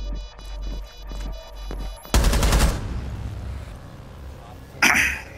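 Video game gunfire in Rainbow Six Siege: a rapid, loud automatic burst cracks out mid-clip, followed by a shorter, sharper volley near the end, over a droning in-game background.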